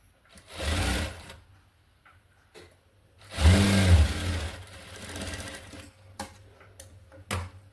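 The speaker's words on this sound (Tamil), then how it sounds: "ஸ்ட்ரெயிட்டாக வந்து ஸ்டிச் பண்ணி எடுத்துக்கோங்க" Sewing machine stitching a blouse band: two loud bursts of rapid mechanical whirring and needle clatter, the second longer, separated by quiet pauses with a few small clicks and taps from handling the fabric.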